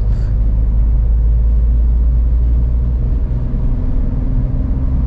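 A car engine hums in fourth gear while driving, a loud steady low rumble of cabin and road noise with no clear revving changes and no speech.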